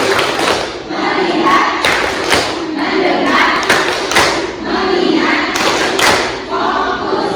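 Students in a sociology class perform a patterned focus clap, loud group claps and thuds in repeated rhythmic bursts, close and energetic.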